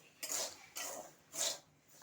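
Semolina dry-roasts in a pan, with three soft, separate scraping strokes of a utensil against the metal, quiet and close.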